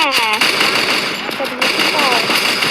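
Rapid bursts of gunfire ring out in the video game Free Fire, dense and loud, with electronic game effects and chirps layered over the shots.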